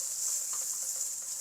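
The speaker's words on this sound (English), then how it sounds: "Stir fry the carrots for about 3 minutes." Carrots stir-frying in avocado oil in a pan give a steady, soft sizzle with faint scattered crackles, close and even, with no talking.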